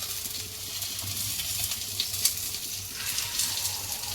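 Sliced banana stem frying in a pan makes a soft, continuous sizzle with faint stirring scrapes and a few small clinks, fairly quiet throughout.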